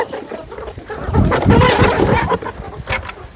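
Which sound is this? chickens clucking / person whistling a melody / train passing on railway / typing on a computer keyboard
chickens clucking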